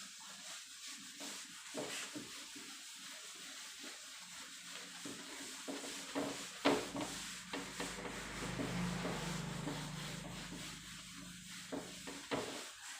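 Something being rubbed in a chemistry lab during a class demonstration, a soft, irregular scraping that swells and fades in short strokes, fairly quiet and close, with no voice over it.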